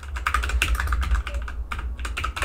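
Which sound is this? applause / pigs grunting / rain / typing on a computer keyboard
typing on a computer keyboard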